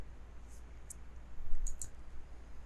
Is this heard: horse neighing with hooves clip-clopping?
no